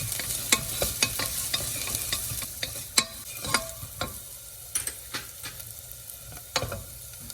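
Turmeric powder sautéed in a pan for moru curry (spiced curd curry) crackles under a quiet sizzle, punctuated by repeated sharp clicks and scrapes of a spatula against the pan at an uneven rhythm.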